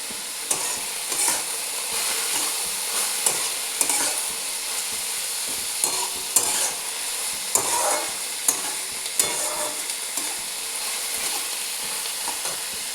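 Onion frying in oil with sugar, being browned for a meat dish: a constant bright sizzle with regular clinks and scrapes of a stirring spoon against the pan, close and steady, with no talking.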